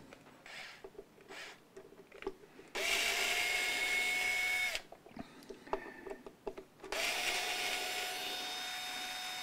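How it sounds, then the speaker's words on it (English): Screws are taken out of a Burns Brian May Red Special electric guitar with a powered screwdriver, giving two sustained whirring motor runs separated by faint handling clicks and rattles, close up and with no speech. "Let's just get these screws off here."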